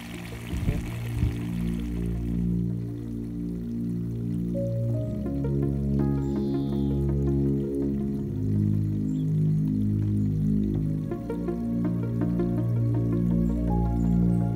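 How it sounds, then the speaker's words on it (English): Diesel pours from a jerry can into a boat's fuel tank with a steady gurgling, glugging flow alongside a low rumbling hum, fairly close and continuous with no talk. "I'm just putting some diesel into the tank."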